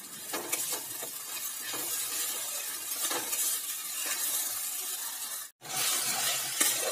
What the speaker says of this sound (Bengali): মশলাটা ভালো করে কষিয়ে দেবো